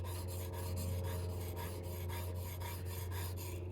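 An oddly shaped lutherie tool is sharpened freehand on a stone with quick, even back-and-forth rasping strokes in a steady rhythm, close and continuous over a low hum, with no talking.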